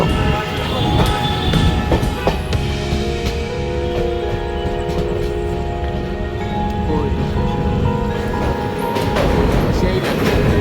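Passenger train to New Jalpaiguri heard from inside the carriage: a steady, loud rumble of wheels and rails with some clatter and faint tonal hums running throughout.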